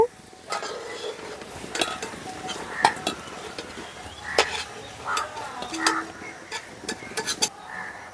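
Potatoes fry in oil for a Bengali village-style hilsa fish curry, a soft continuous sizzle broken by repeated sharp utensil clinks and scrapes as pieces are lifted out, close and fairly quiet.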